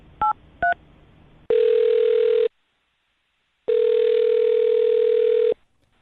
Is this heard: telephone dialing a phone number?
yes